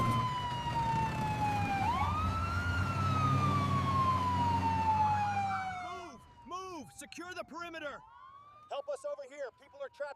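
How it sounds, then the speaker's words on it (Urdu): Rescue 1122 ambulance and fire engine sirens heading to a train accident scene at Walhar railway station, a loud sustained wail sweeping in pitch over traffic rumble, then sharp yelping siren bursts in the last seconds. "اطلاع ملتے ہی ریسکیو 1122 کی ایمبولنس ہیں اور فائر بریگیڈ اور ریسکیو وہیکل جائے حادثہ کی طرف روانہ ہو"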